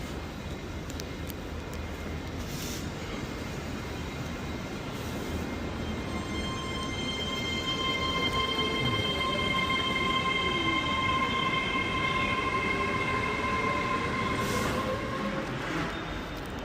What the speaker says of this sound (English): Oh look, there's a Plymouth train.